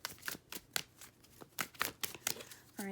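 A deck of tarot cards is shuffled by hand in a quiet room, giving soft irregular riffles and taps with short pauses between them.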